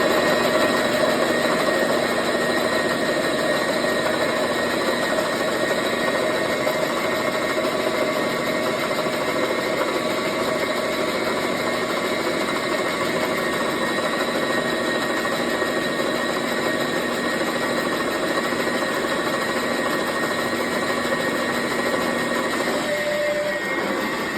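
A lathe turns a 6061 aluminium brake rod with a plain carbide insert, giving a steady whining machine drone with tonal hum, continuous and unchanging throughout with no talking.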